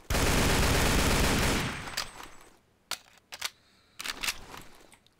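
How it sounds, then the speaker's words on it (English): A German automatic gun in Garry's Mod fires a loud, rapid burst lasting under two seconds, then the echo fades and a few sharp metallic clicks and clacks of handling follow. "Another German gun."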